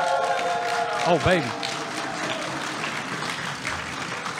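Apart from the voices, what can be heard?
tournament crowd cheering and applauding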